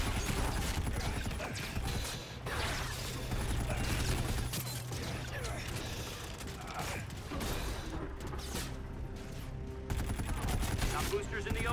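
Gunfire in the Call of Duty Infinite Warfare video game, a dense continuous barrage of rapid shots and mechanical clatter mixed with game effects, loud throughout with voices in the background.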